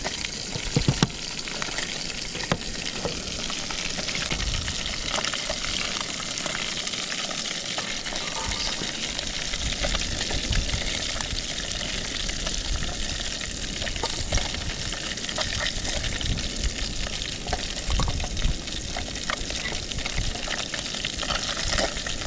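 Chopped potatoes fry in oil after fish, cooked outdoors on a fishing trip, giving a loud dense continuous sizzle and crackle with occasional stirring clatter.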